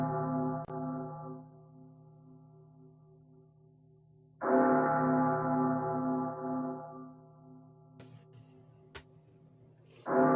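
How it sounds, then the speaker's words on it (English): A church bell rings out in long, resonant tolls, a sustained humming tone that fades and then swells again, fairly faint and distant, with a few sharp clicks near the end. "you know what that bell sounds?"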